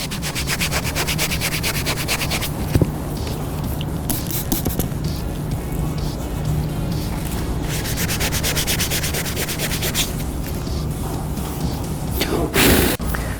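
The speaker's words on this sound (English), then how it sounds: "So I finished sanding down the light with the 2500 grit sandpaper." Wet sanding of a plastic SN95 Ford Mustang brake light lens with 2500 grit sandpaper, close rhythmic rubbing and scraping strokes repeated throughout, with a brief louder scuff near the end.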